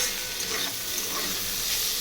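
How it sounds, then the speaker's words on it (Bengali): Potato and ivy gourd with poppy seeds fry in a pan, giving a steady, close sizzle with a light stirring scrape throughout and no talking. "আজকে এখানে হচ্ছে আলু কুঁদরি ভাজা,"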